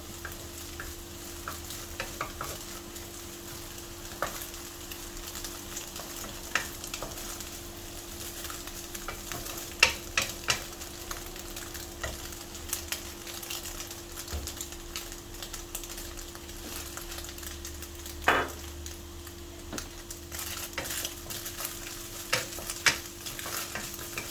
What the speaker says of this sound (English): let's continue to stir and stir. Cook until the garlic smell is coming out